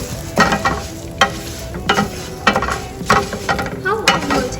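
Orzo pasta toasts in a pan while a spoon stirs it. Repeated scraping strokes land over a steady close sizzle, with no one talking.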